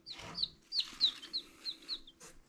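Dual-purpose chickens, kept for eggs and meat, make a run of short rhythmic clucks and chirps close by in a backyard flock, around six calls in quick succession.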